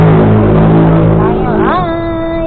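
A car driving along early in the morning, steady close engine and road noise that dips slightly as the engine note shifts, under continuous talk.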